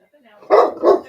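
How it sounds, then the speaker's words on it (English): A pet dog barks twice in quick succession indoors, two loud, close, sharp barks following a brief quieter murmur. "There goes my dog. Doggy barking."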